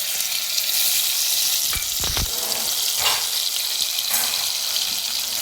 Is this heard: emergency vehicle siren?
no